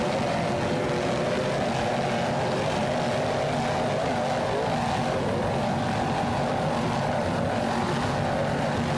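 Racing powerboats, a 40-foot Fountain and an Outer Limits, battle at speed in the Super V class at Daytona, giving a steady, broad engine roar that stays loud and continuous throughout.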